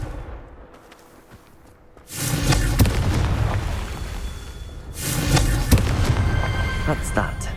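A Confringo fire-blast spell goes off in Hogwarts Legacy on PS5: two loud, booming explosive bursts, the first ringing out for about three seconds and the second following close after, each with a crackling tail and faint speech-like sound.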